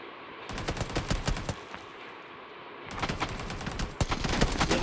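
Gunfire in the video game BGMI, rapid bursts of automatic shots that come in several clusters with short gaps between them, close and sharp, with no talk.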